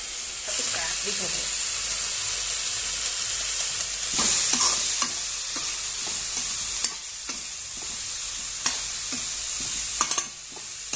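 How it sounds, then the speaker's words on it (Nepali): Spicy noodles with seasoning masala fry and sizzle in a pan, with a steady hiss throughout and repeated scraping stirs and clinks of a utensil, close and fairly loud, with no voice. "यो इन्ग्रेडिएन्ट चाहिँ लास्टमा हाल्नु चाहिँ सिजनिङ मसला यो हाल्नुपर्छ। अहिले फ्राई हुनुपर्छ।"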